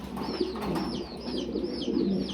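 Fancy pigeons coo in a low, continuous throaty murmur up close, with bright chirping from other birds repeating above it throughout.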